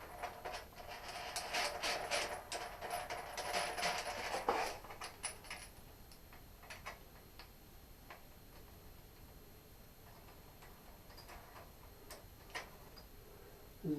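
Metal tool pressing a bottom bracket adapter into an older bicycle frame, a fast run of close, dry ticks and clicks for about five seconds, then a few sparse, fainter clicks over quiet room noise.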